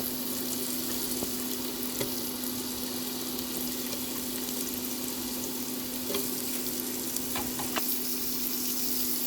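Carrots fry in a pan for a vermicelli noodle dish, a steady close sizzle with a low hum underneath and a few light clicks of stirring.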